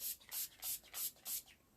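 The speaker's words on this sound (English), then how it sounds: "I'm just gonna spray heat protection on my hair now" Five quick, soft bursts of heat protection spray mist onto hair from close by, each a short hiss in an even rhythm with brief pauses between.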